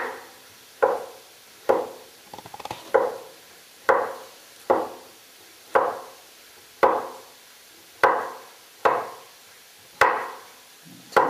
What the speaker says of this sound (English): we have the pecorino cheese, which again we'll finely chop